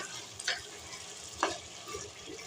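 Beef and cabbage fry in a pan with cumin powder added, a soft sizzle running steadily underneath. Two gentle scraping strokes of a stirring spoon stand out, and faint clinks follow.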